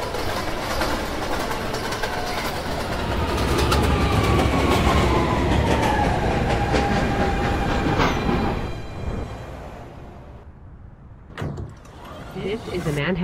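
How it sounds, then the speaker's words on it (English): Video-game simulation of a Manhattan-bound 3 shuttle on the New York City subway: a train runs with a steady rumble and rising whine, then slows and quiets, and a door thump and clicks follow near the end. "This is a Manhattan-bound 3 shuttle train."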